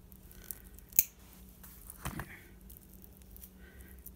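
Nylon craft material is cut with a makeshift tool in place of scissors, giving one or two quiet, close snips in a hushed room.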